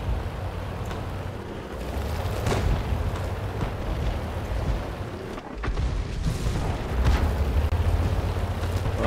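Artillery shell blasts in World of Tanks, a heavy Japanese T-III Type 91 tank battle, rumble as a sustained, loud low roar with a sharp new impact about halfway through.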